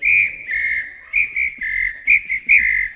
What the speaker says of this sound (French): j'ai plusieurs sifflets parce que à l'occasion de ce stage, je me suis passionnée pour la samba